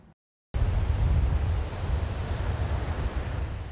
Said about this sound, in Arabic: هكذا تتدفق مياه الصرف الصحي من وادي غزة إلى شاطئ البحر المتوسط